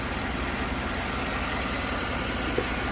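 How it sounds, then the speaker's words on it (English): A Chevy 5.3 V8 truck engine with about 233,000 miles idles steadily and evenly, a continuous mid-level rumble heard close by with no voices over it. "The motor sounds absolutely excellent."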